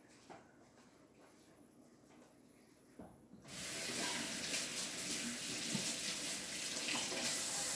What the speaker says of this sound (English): Let me clean my hands up real quick.